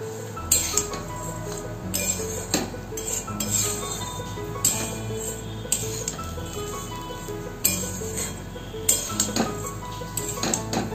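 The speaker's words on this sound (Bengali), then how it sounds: "এপিট ওপিট ভালো করে নাড়িয়ে নাড়িয়ে কিন্তু আমাদের ভেজে নিতে হবে।" Flattened rice (chire) is stirred and fried in a pan, with repeated clinks and scrapes of a utensil against the metal, fairly soft and close, in irregular bursts.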